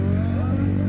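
A 351cc motorcycle engine holds a loud, steady droning rev close by, with a strong low hum that barely changes over the short stretch.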